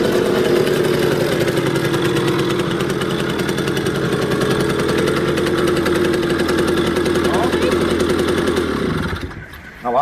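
A moped engine runs steadily close by with a buzzy, rattling drone, holding constant for most of the stretch before cutting out abruptly near the end.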